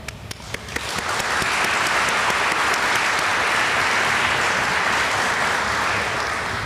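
An audience applauds at a military change of command ceremony for the 55th Mission Support Group. The clapping starts scattered, swells within a second into dense, steady applause, and holds evenly to the end.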